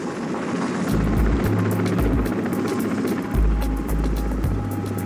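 A police helicopter flies overhead, its rotor giving a loud, continuous, pulsing thrum with steady rhythmic beats and a broad roar throughout.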